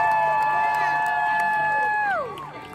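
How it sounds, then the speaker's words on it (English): A crowd at a live show in Mexico lets out a loud, sustained cheering roar that holds steady, then falls away and thins out near the end. "let's say goodbye with a big noise and applause"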